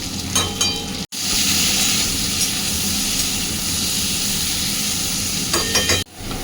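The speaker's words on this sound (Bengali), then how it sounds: "একটু পটল লাল লাল করে ভেজে দিই।" Pointed gourd (potol), dried out and few in number, frying in a pan with a loud, steady sizzle that fills the whole stretch, briefly cut off twice as if the pan is lifted or stirred.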